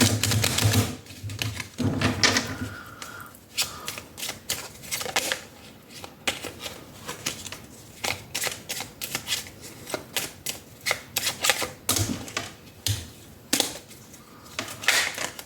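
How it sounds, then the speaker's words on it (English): Cards from the Making Magic tarot deck shuffled by hand, a long run of crisp, rapid clicking flicks and riffles in irregular bursts, close and fairly loud, alone without speech. "we're going to take out one card from the Making Magic deck"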